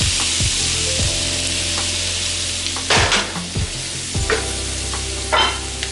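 Fried cabbage and sausage sizzle loudly and steadily in a hot pan while a utensil stirs it, scraping and knocking against the pan at intervals.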